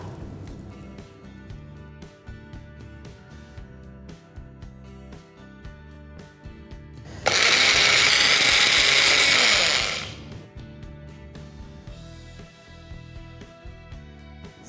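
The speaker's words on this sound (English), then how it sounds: "we have ground the anardana and the cumin, lightly roasted, into a coarse powder" A kitchen mixer grinder whirs loudly for about three seconds as it coarsely grinds lightly roasted anardana and cumin, a sudden high-pitched motor roar that starts and stops abruptly over quieter background music.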